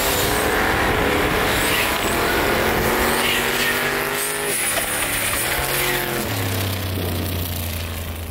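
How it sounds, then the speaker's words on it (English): A 2200HP truck with a 119 millimeter turbo drag racing on ice, its engine roaring loudly at full throttle and rising through gears before dropping to a lower drone as it pulls away. "we're gonna see what a 119 millimeter turbo does in the snow"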